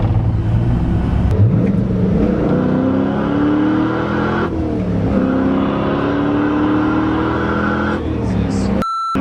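An LS-swapped BMW E30 revving hard under full-throttle pulls, heard from inside, its deep engine note climbing steadily in pitch through two gear changes, loud and close, with voices speaking over it before it cuts off.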